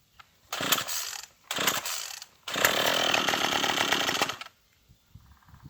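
A Troybilt TB21ec two-stroke pole saw is cranked by hand on its first start attempt after a carburetor swap: three pulls of the recoil starter, the last a longer sputtering burst, then quiet.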